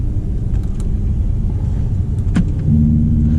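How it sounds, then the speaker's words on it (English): An Audi R8 Spyder V10 Performance rumbles loudly from inside the cabin while driving, a steady low exhaust drone that rises into a higher sustained note near the end. "Okay, so now we have the exhaust sound."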